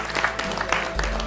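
Audience applause for Dr. Rishi Raj Singh, Director of NISPEP, at the Global Cultural Festival 2015: a dense, steady wash of clapping from a crowd that fills the whole brief moment.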